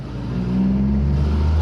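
A VW Polo engine fitted with a performance air filter revving up, a loud close rising drone that climbs steadily in pitch and volume, heard alone.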